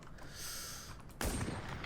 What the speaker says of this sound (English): Has the old alpha gunshot sound